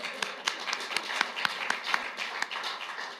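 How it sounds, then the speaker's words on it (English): An audience at an annual meeting claps in a sparse round of applause, a thin scatter of individual hand claps at moderate distance, irregular and fairly quiet. "Round of applause for persevering, Susan."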